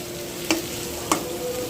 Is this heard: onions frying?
yes